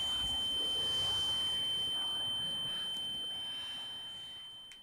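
Electronic alarm ringing in a Black Mirror video game, a steady high-pitched tone held continuously over a quiet background and fading slightly toward the end.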